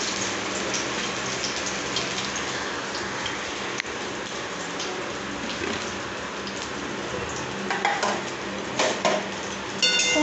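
Leafy greens frying in a pan in a home kitchen, a dense steady sizzle like rain with occasional clinks of a utensil stirring against the pan.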